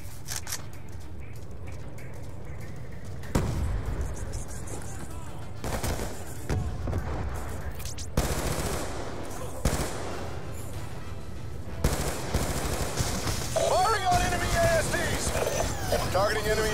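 Call of Duty: Black Ops 2 battle with gunfire engaging enemy infantry, sharp shots and bursts striking repeatedly at irregular intervals over a steady combat background, with radio chatter mixed in.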